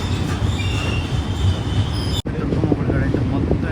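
Garib Rath superfast express rumbling across the Krishna barrage, with a loud continuous roar of wheels, squealing and clatter heard from on board, briefly cut at one point, and a voice faintly underneath.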